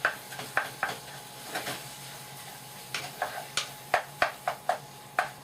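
Onions going into a pan with browned minced meat for a bolognese sauce, with a faint low sizzle and a series of sharp spoon taps and scrapes against the pot, and no talk.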